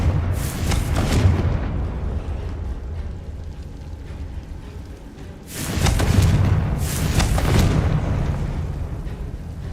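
Confringo fire spell blasts in Hogwarts Legacy: two loud, booming explosions, one at the start and a bigger double burst midway, each rumbling and fading in a game scene.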